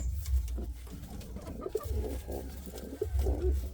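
An Indian fantail pigeon coos close by in soft, repeated low throaty phrases, alone without speech.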